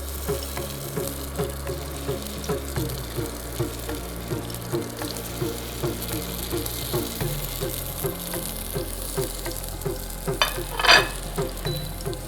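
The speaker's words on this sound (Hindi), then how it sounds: "और तेल गर्म होने के बाद इसमें जो हमने शामी कबाब बनाए थे वो इसमें डाल देते हैं।" Shami kebabs fry in hot oil in a pan. A steady sizzle runs throughout, with a regular rhythmic clatter of stirring or turning, and a brief louder burst near the end.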